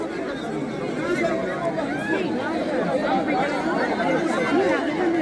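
A large crowd at a Bukusu circumcision ceremony chatters in a dense, steady babble of many voices, with no single speaker standing out throughout.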